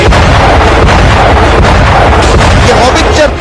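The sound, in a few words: howitzer artillery gun firing shells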